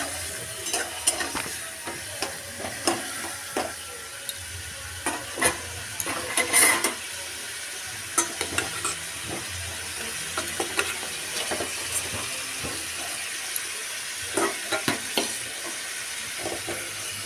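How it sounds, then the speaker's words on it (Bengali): A turmeric spice paste loosened with a little water sautés in a pan for egg curry, with a steady sizzle and frequent scraping stirs of a spatula, close and continuous. "আর একটু জল দিয়ে দিলাম, যাতে মশলাটা পুড়ে না যায় সেই জন্য সামান্য জল দিয়ে এটাকে আবারও কষিয়ে নেব।"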